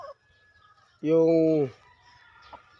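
Gamefowl chickens give one short, loud, harmonic call close by, set between stretches of quiet, with someone speaking faintly around it.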